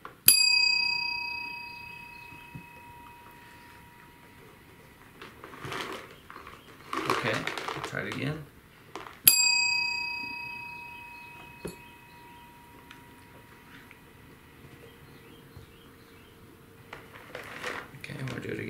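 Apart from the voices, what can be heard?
bell rung during cat training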